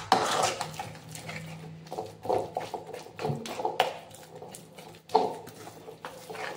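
A metal spoon stirs sorrel and dill greens mixed with gram or millet flour in a pan, giving irregular scraping and clinking knocks up close, with small pauses between strokes and no talking.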